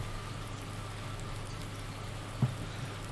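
Steady rain falls in the farming game Farming Simulator 19, a soft even patter and hiss with no talk, holding level throughout with one faint drip-like tick near the end.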